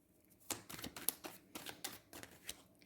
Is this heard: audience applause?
no